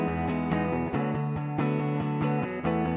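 Clean electric guitar run through an FMR Audio RNC compressor, with shoegaze-style strummed chords at an even, squeezed loudness over three seconds, no voices.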